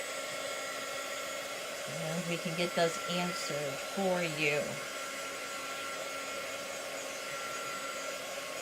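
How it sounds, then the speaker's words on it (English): A hair dryer blows with a steady, loud whoosh throughout, while a person speaks briefly over it partway through. "I'm going to go ahead and pull out my dryer."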